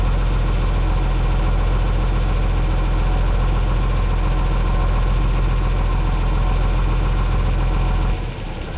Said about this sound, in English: You gotta set the tractor off to run that up.